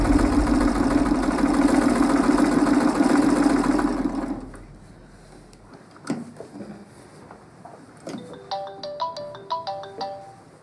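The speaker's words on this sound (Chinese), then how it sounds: "景怡啊，终于肯接我电话了。" A mobile phone ringtone plays a bright, rising melodic pattern of repeated notes near the end, following a loud, rumbling engine-like drone that fades out.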